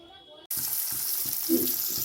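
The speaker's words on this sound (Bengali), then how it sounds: "আমি লবণ আর হলুদ মাখিয়ে আমি ইলিশ মাছগুলোকে ভাজতে দিয়েছি তেল গরম করে" Hilsa fish rubbed with salt and turmeric frying in hot oil, a sudden loud, steady sizzle that starts abruptly and continues close up, with faint clinks beneath.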